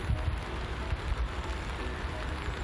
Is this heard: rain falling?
yes